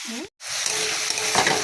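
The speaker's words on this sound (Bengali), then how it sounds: "শাক ভাজা বসিয়ে দিয়েছি এখানে" Leafy greens frying in a pan give a close, continuous hiss of sizzling with stirring. It begins right after a short silent break and stays even and fairly loud.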